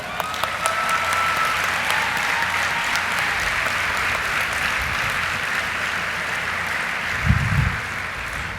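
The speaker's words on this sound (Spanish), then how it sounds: "Un aplauso para ustedes." The crowd at the UDEM 2017 graduation ceremony breaks into applause, a loud, sustained roar of many hands that runs throughout, with one brief heavier thump near the end.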